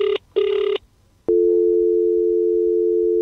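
A telephone in the video game Jolly 3 gives two short tone bursts with a brief gap, then after a pause a steady, loud unbroken tone that holds to the end, with no voices.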